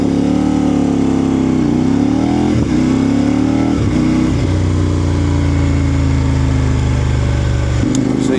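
A Kove 800 X Pro motorcycle accelerating on the road, its engine loud and close as it revs up through several gear changes, then holds a steady drone before rising again at the end.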